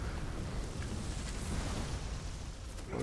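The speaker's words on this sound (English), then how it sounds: "Oh, it exploded apparently" A homing fireball explodes in the video game Bloodborne, a dense, steady rumbling roar with crackling texture that fills the whole moment at an even, loud level, with no voices over it.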